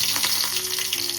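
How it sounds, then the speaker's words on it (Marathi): Curry leaves dropped into hot oil crackle in a bright, close, continuous sizzle, brief and steady without speech. "तेल गरम झालं, आता आपण कढीपत्ता टाकू."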